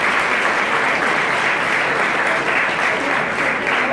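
Steady, dense applause from a large audience at a Cuban son music concert, sustained and fairly loud throughout without pause.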